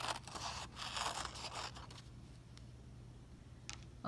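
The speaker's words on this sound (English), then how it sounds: "I'm going to take my scissors and I'm going to cut out that leaf shape" Scissors snip through paper to cut out a leaf shape, a run of crisp close cutting and rustling over the first two seconds, then quieter paper handling with a low steady hum underneath.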